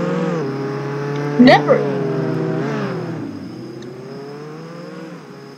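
A stolen car in the Jailbreak video game drives along with a steady engine drone, a brief sharp clunk partway through, and a voice speaking over it.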